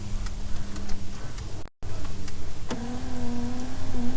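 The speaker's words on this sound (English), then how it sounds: "now let's go ahead and turn the window up and down, see if the motor still operates" A car's electric power window motor runs as the window moves up and down, a close, steady whirring hum that stops briefly, then resumes with a higher strained whine toward the end.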